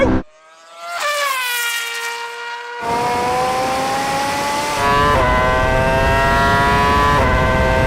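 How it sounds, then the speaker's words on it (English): A Red Bull RB8 Formula 1 car screams through a drag race against a Porsche 918 Spyder and Bugatti Veyron, its loud, close, high-pitched engine climbing steadily and dropping back at two sharp gear changes. "here comes the Formula 1 car now!"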